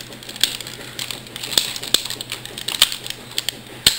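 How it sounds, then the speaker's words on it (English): Knee joints of a Masterpiece Grimlock toy figure ratcheting: a series of sharp, sparse clicks spread over a few seconds, close and fairly quiet, with a faint steady hum underneath. "Those knee ratchets are pretty heavy."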